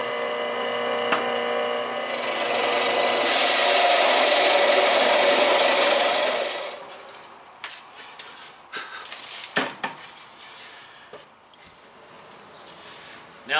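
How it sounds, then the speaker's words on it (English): A spade bit drilling through wood for a teardrop trailer bulkhead or countertop, a loud continuous power-drill whir lasting several seconds, then stopping, followed by quieter handling clatter and knocks. "I'm going to use a spade bit."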